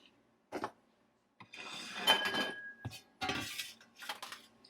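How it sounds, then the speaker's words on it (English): Dry bath bomb ingredients are mixed in a bowl: bursts of scraping and light clinking of a utensil against the bowl, with short pauses between strokes, close and moderately loud. "So that's going to be instruction number 1, where you mix together all the dry ingredients."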